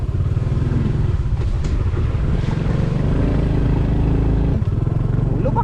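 A motorcycle rides over a bumpy, potholed rural road, its engine droning steadily and close throughout with a low rumble, occasional jolts and rattles breaking the even tone.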